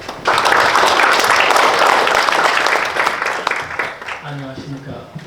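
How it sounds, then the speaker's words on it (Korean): At a Pyeongtaek international forum, an audience applauds a KAIST professor taking the stage. Loud, dense clapping starts abruptly, then thins and fades near the end as background sounds appear. "큰 박수 부탁드립니다"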